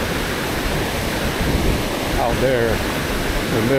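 High water on the Fox River rushes in a steady broadband roar, with a voice talking over it near the end.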